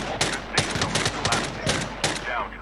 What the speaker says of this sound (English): Zach Wilder pistols Karina out of the game. My guy is playing Warzone